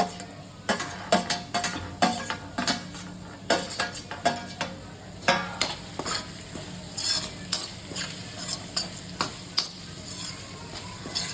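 Carrot and capsicum stirred into half-boiled potatoes with ginger in a pan for sabudana khichdi: continuous sizzling under a run of rhythmic spatula scrapes and metallic clinks, close and fairly loud.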